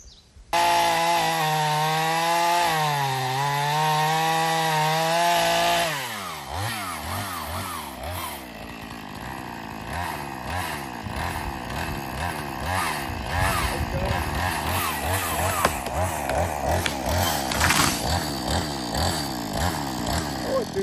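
Proyama chainsaw idling with a steady, loud whine that shifts pitch, then bogging down into a rough, pulsing, lower drone as it cuts through wood, close and continuous.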